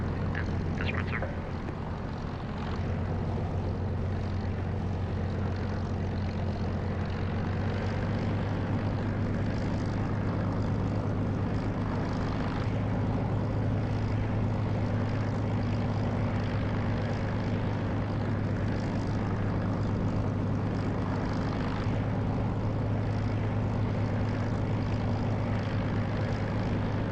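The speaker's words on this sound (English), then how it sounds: "That was an enemy bomber that just went over. It's an A20" A World War II A-20 enemy bomber passes over in a flight simulator, a loud steady propeller-engine drone with a deep hum that holds evenly throughout, close and unbroken, with no talk.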